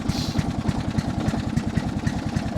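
An old vehicle's engine runs steadily in fourth gear, a close, loud, low rhythmic chugging with regular firing pulses throughout and no talk.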